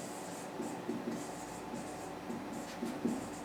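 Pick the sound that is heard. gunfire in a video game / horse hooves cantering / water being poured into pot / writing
writing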